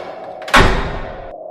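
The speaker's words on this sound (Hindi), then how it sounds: "एक दरवाजा अपने आप बंद हो जाता है।" A wooden door in an old haunted mansion slams shut on its own with one loud, sharp bang that rings and decays for nearly a second, close and alone in a horror cartoon scene.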